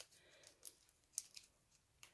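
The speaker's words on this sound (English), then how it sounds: "I have my scissors ready because I know what some toy packaging is ridiculous" A few sharp, quiet snips of scissors cutting toy packaging, spaced irregularly against a faint background, close by.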